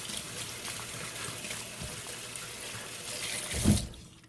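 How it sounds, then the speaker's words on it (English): Running water splashes and trickles while a bong stem is rinsed clean under a tap, a steady close wash with a louder gush near the end, no voices. "rinse this out to a perfectly clean stem"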